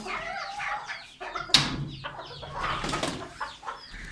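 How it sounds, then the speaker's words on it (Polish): A broody hen let out of the coop in the morning on a Polish homestead clucks in a series of close, fairly loud calls, with other farmyard bird sounds around her. "Już kwoka jest wypuszczona."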